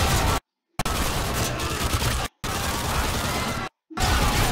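Bursts of rapid automatic gunfire crackle loud and close in Call of Duty: Modern Warfare 2, sustained volleys broken by abrupt silent gaps.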